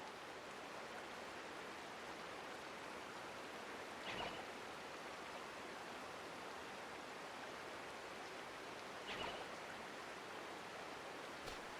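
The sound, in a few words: water gushing out everywhere in a video game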